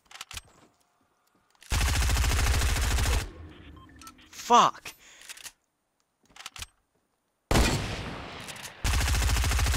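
Bursts of rapid automatic gunfire from the Fortnite video game come in long sustained volleys, loud and close, split by a whooshing sweep and brief quiet gaps, with a man swearing briefly in between.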